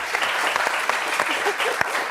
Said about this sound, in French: Applaudissements pour Thomas.